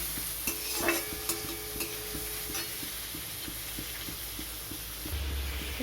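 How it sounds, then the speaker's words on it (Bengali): Chopped onions fry in a little oil with a steady broadband sizzle, broken by regular scraping stirs of a spatula roughly every half second, close and moderately loud with no talking. "এবার দিয়ে দিচ্ছি পেঁয়াজ কুচি। পেঁয়াজটা একটু ভেজে নেব।"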